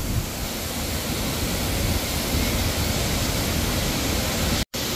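Thoseghar waterfall near Satara pours down in a steady, dense roar of rushing water, loud and unbroken for several seconds before a brief dropout near the end.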